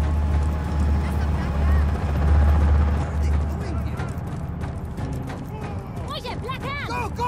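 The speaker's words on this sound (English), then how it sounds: "Chopper. That's not good." Helicopter in the open-world action game Just Cause 4, a loud, steady low rotor drone under game sounds, with bursts of gunfire or impacts and chirping effects toward the end.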